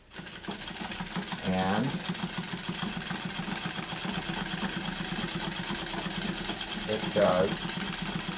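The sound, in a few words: Wheeler and Wilson W9 treadle sewing machine stitching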